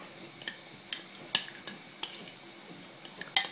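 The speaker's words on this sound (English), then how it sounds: "stir with the spoon like this. That's the way you melt the chocolate" Spoon stirring chocolate as it melts in a pan, giving soft scattered scrapes and light clinks against the metal at a quiet, steady pace with no talking.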